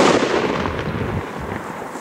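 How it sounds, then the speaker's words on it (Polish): A Triplex Thunder King firework going off on New Year's Eve night, a single heavy boom with a decaying rumble that fills the short moment. "To teraz poleci coś głośnego, czyli Thunder King."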